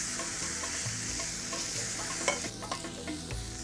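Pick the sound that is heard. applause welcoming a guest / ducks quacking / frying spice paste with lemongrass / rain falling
frying spice paste with lemongrass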